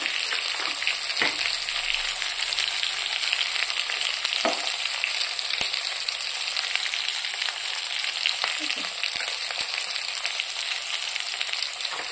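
Boiled potatoes fry in a pan with a continuous close sizzle, and occasional stirring knocks and scrapes break in over about twelve seconds without any speech.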